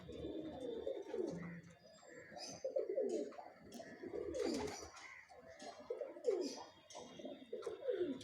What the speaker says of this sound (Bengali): এই দেখুন এটা হচ্ছে আমার পায়রার লফট